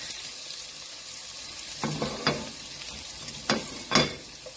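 Garlic and onion frying in cooking oil for Filipino chicken adobo, a steady high sizzle with a few sharp scraping stirs of the pan near the end; no talking.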